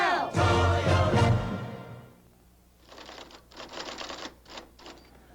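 A burst of music fades, then a typewriter clatters close and clear, rapid keystrokes arriving in short irregular runs with brief pauses between them.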